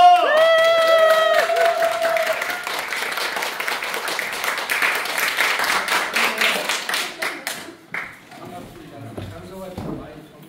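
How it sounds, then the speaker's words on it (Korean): A standing audience at a lecture gives a big round of applause, crisp hand claps swelling under a tonal sound at the start, then thinning and fading toward the end as a voice briefly talks. "큰 박수 기립하셔서 큰 박수로 부탁드리겠습니다."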